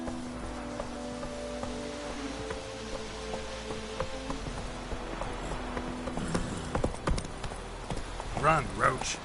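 Repeated hoofbeats from Roach the horse in a PS4 video game, a steady clip-clop over game music and ambience that grows busier and louder near the end, with a voice talking over it.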